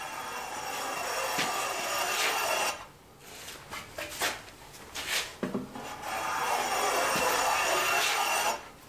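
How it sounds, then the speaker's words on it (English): A handheld tool chamfers an inside wood edge at 45 degrees with long, steady scraping strokes, close and moderately loud, broken by a pause filled with shorter scrapes and taps. "I'm going to go ahead and 45 chamfer that inside edge now, just to round it in a little bit."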